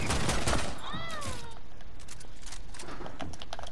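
Rapid gunfire bursts from a shotgun fight in Fortnite, loud and dense at the start and then a steady crackling barrage, with a brief whistling effect early on.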